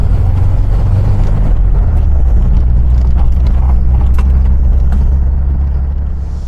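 The rear-mounted engine of a 1979 VW Bay Window camper van drones loudly and steadily from inside while driving, low rumbling with occasional knocks and rattles, easing slightly at the end.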